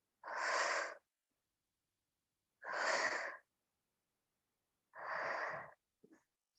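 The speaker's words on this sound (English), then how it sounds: "Breathe in and breathe out." Slow guided breaths during a group exercise class, three long steady breath sounds spaced a couple of seconds apart, close and clear with no talking over them.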